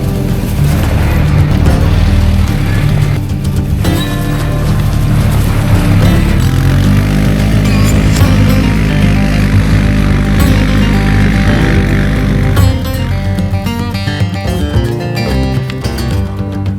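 A BigHorn DXH 550 UTV side-by-side from Tractor Supply runs steadily with a loud, dense engine drone that holds for the whole stretch.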